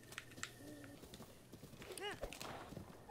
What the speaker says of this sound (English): There seems to be a donkey.